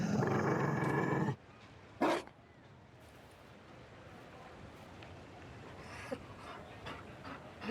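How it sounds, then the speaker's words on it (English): A Mabari war dog in Dragon Age: Inquisition pants and growls softly, close and low under a quiet ambient bed, after a loud burst of noise at the start. "You found a dog?"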